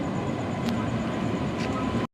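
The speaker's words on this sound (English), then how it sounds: "The Hampi Express is arriving at platform number 2." Hampi Express, hauled by a WAP7 electric locomotive, pulling into a platform at an Indian railway station: a steady rumbling, rolling roar of the moving train nearby, with a couple of faint metallic squeaks, cutting off abruptly at the end.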